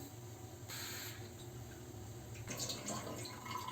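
Water runs and splashes inside a glass while something is rinsed in it, a soft hissing spray that grows louder partway through and is joined by light clinks and splashes, quiet and close, with no talking.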